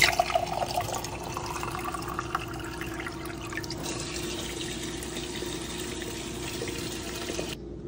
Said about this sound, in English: So now let's see how the water comes out.